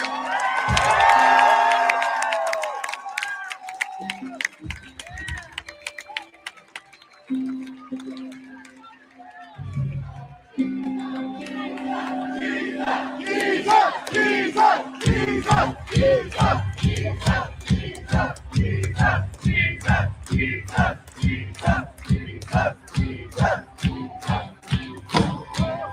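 A large crowd at an outdoor Christian rally cheers, then settles into a loud rhythmic chant with steady pulsing beats, close and dense, with scattered shouting before the chant takes hold.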